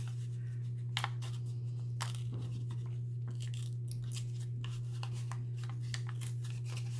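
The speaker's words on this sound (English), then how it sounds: "I'm probably just going to tear right here because I just want to get the edge of this on there" Paper is torn by hand in short, soft ripping bursts at irregular intervals, faint over a steady low electrical hum.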